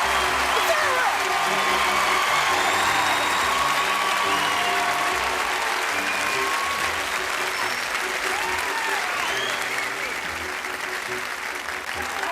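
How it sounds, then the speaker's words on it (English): Sustained applause from a live audience at a comedy magic show, a steady dense clatter of clapping that holds at full level for about twelve seconds before easing slightly at the end. "Give her a nice round of applause."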